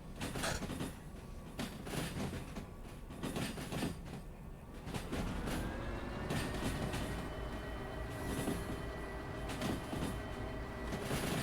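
A train in the railway simulation game Derail Valley rolls steadily along the rails, a continuous rumbling clatter with rhythmic wheel knocks and a rising metallic whine as it moves.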